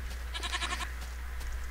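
A video game goat lets out one short, faint, shaky bleat, followed by quiet game ambience with a steady low hum and no speech.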